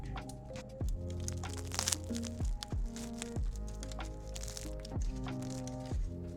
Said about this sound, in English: I'm making them hear the crunch, the bread crunch.